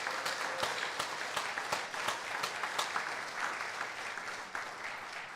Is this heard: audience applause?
yes